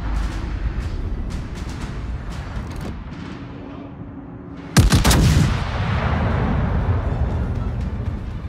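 The main guns of the German battleship Preussen fire in World of Warships over a rumbling naval battle, a single huge salvo crashing out mid-clip amid continuous distant gunfire and sharp cracks.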